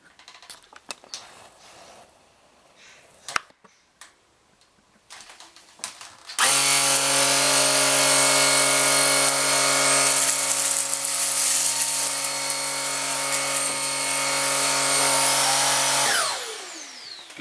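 A Cecotec Rockstar 500 cordless vacuum switches on and sweeps up rice, a steady, loud whine with a fine rattle that runs for about ten seconds before spinning down, following faint handling noises.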